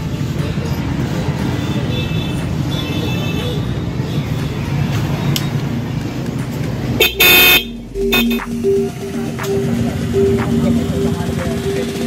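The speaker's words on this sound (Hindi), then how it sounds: "हॉर्न बजा दे भाई एक बार" A newly fitted vehicle horn in Dhanbad, Jharkhand sounds in a loud blast, then gives a sustained steady tone. Road traffic noise runs underneath, and people talk before and around it.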